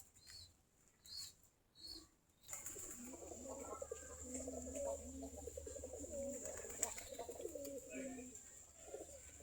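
Giribaj pigeons peck at red soil in their loft, with a few soft bursts at first, then continuous close cooing, rustling and wing flutters.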